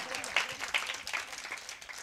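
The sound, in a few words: congregation clapping hands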